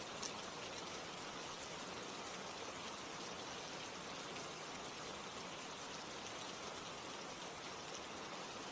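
Steady rain falls in a constant, even hiss of drops on surfaces, a broad unbroken wash of sound without pauses or voices.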